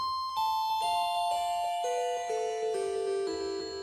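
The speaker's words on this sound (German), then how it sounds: "wie man so einen glockenähnlichen Yamaha DX7 Sound hinbekommt mit dem Korg Minilogue" A Korg Minilogue synthesizer playing a bell-like, Yamaha DX7-style patch: a descending run of clear metallic tones, each note struck and ringing with bright overtones, close and steady, no voices.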